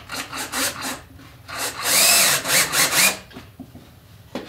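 A power drill whirs in several bursts as a screw is driven into a wooden centerpiece for mounting a European skull, with grinding pulses and brief pauses between runs.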